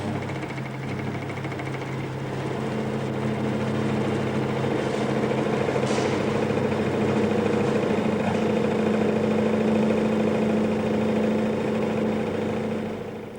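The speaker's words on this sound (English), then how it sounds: "what happens to the nut when the joint is vibrated at about 800 revs per minute" A vibration rig shakes a bolted nut-and-bolt joint at about 800 rpm, giving off a loud, steady mechanical drone with a constant humming tone that holds unbroken throughout.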